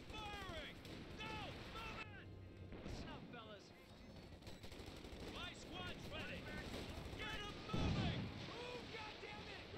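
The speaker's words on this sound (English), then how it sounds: "Oh, that's a Stuka." A Stuka dive bomber attack in a Company of Heroes 2 battle: a long stretch of game combat with bursts of gunfire and explosions, a heavy blast near the end, with background voices throughout.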